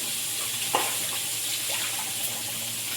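Water running into a basin for washing fish, a steady close splashing flow with a small knock near the start, alone and without talk.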